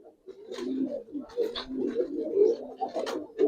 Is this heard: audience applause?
no